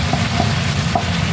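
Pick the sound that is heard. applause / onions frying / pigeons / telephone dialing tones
onions frying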